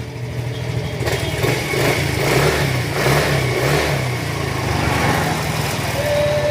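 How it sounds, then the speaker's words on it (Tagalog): A Yamaha Mio scooter engine runs close by after a full overhaul, with a steady idle that rises in a few revving swells, loud and unbroken, with no voices over it. "umaandar na siya totally hindi na siya maingay oh."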